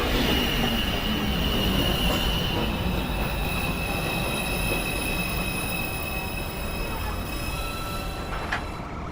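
A New York subway 2 train sits at a station during morning rush hour, its wheels and brakes squealing in high sustained tones over a dense, loud mechanical rumble and hiss.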